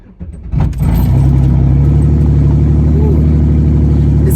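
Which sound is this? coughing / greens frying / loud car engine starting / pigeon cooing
loud car engine starting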